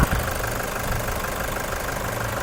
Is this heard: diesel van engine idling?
yes